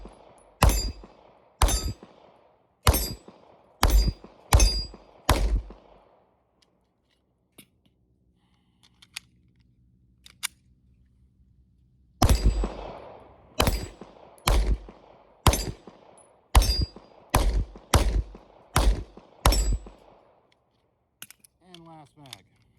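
Pistol shots with .40 Smith & Wesson rounds striking steel targets, a steady series of sharp, loud reports with ringing impacts, a pause midway before a second string of rapid shots.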